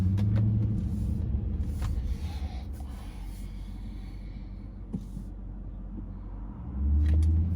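A Chrysler 300S in sport mode driving along, its engine a low rumble inside the cabin that eases in the middle and swells again near the end, with occasional faint interior clicks and no talking.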